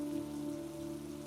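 Rain falls in a steady, dense patter on a surface, a soft continuous wash without any voices.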